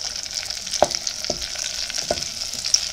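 Oil, onion and momoni fry in a pot for Ghanaian yam pottage, a steady close sizzle with a few soft knocks of stirring.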